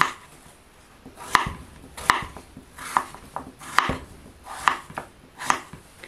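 Butternut squash is cut with a small knife, producing about seven separate thunks on a board, spaced roughly evenly less than a second apart, close and alone.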